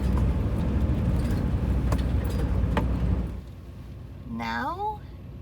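An RV rumbles loudly along a bumpy, narrow, winding island road, with low road noise and body jolts that drop away abruptly near the end. A voice speaks briefly over the quieter tail.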